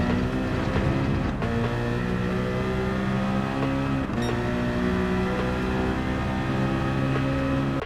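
A GT Citroen race car in Gran Turismo 7 at the Lago Maggiore circuit drones loudly and steadily under throttle, its engine note stepping up with brief shift breaks.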